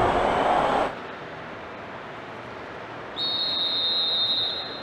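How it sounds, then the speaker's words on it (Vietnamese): A referee's whistle ends the first half in PES 6 football, Arsenal against Barcelona: a sustained shrill high tone enters after a quieter stretch and holds steadily over faint background crowd noise. "trọng tài Jonas Eriksson đã thổi còi cho hiệp 1 trận đấu được khép lại"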